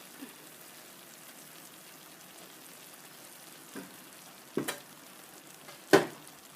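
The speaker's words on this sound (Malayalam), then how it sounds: "ഇനി നമുക്ക് ബാക്കിയുള്ള മസാലയും ചെമ്മീനും ആവശ്യത്തിന് ഉപ്പും ഇട്ടിട്ട് ഒന്ന് ഇളക്കി കൊടുക്കാം" Prawns, masala and salt are stirred in a pan over a low flame for a Kerala-style prawn roast: a soft, quiet sizzle broken by three or four sharp scrapes of the spoon, the last one the loudest.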